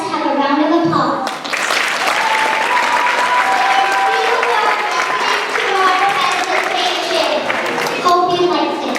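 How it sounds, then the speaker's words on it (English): A crowd applauds steadily at the grand opening of a Junior ATB school, loud continuous clapping that lasts several seconds with voices mixed in, starting and tapering near the ends. "So let's have a round of applause."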